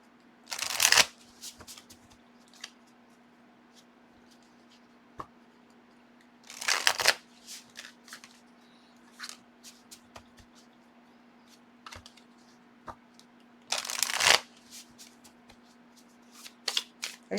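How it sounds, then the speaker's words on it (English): Deck of oracle cards on thicker-than-playing-card stock being shuffled by hand, three loud bursts of riffling several seconds apart with small taps and clicks of card handling between, over a faint steady hum. "Let's give these a shuffle."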